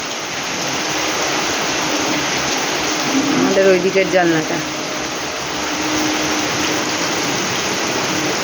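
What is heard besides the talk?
heavy torrential rain in a storm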